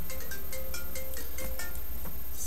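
A phone rings with a repeating electronic tone pattern of short bright chirps, close and loud over a busy noisy background, with no talking.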